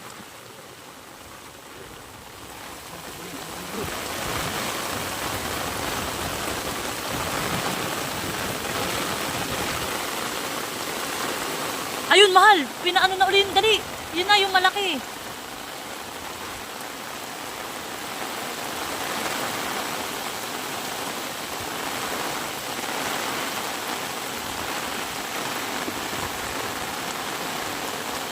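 Heavy rain pours in a dense, steady hiss that swells after the first few seconds and holds loud throughout, with a brief stretch of people talking over it midway.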